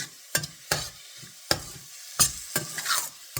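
Onions cooking with a little salt in a pan for pav bhaji: a soft, steady sizzle broken by several sharp scraping stirs of a utensil at irregular intervals, close and moderately loud, with no talking.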